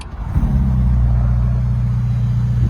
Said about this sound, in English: You swipe to start.